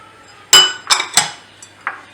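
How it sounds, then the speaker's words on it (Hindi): Chopped onion, tomato and carrot get mixed in a bowl, producing a few sharp clinks and clatters of a utensil against the dish, spaced irregularly and close up with quiet pauses between. "मैं ये मिक्स कर देती हूँ सब्जियाँ जो हैं।"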